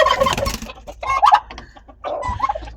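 Chickens cluck and squawk in short bursts, fairly close and loud, with brief gaps between calls and no talk over them.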